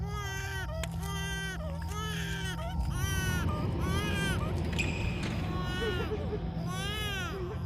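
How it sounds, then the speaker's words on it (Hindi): An infant cries at night, a run of repeated rising and falling wails over a steady low droning background. "आपका बच्चा तब से रोए जा रहा है, इसे चुप कराइए ना।"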